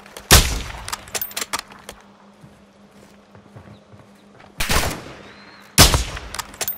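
Shots fired at an aircraft in a video game: three loud, separate booming bursts spaced a few seconds apart, with fainter clatter and small knocks in between.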